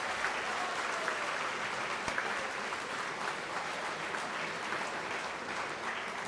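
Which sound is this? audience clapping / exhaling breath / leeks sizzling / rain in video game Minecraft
audience clapping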